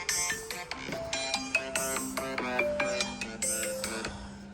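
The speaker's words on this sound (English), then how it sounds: "Hold on, somebody calling my phone." A mobile phone rings with an incoming call, a bright melodic ringtone of repeated electronic note patterns playing steadily and close with no voices over it.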